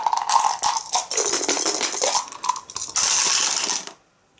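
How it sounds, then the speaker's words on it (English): Five dice rolled during an Arkham Horror board game, a busy clattering rattle of small dice tumbling and knocking together for about four seconds, with a denser burst near the end before stopping, close and fairly loud. "She rolls 5 dice."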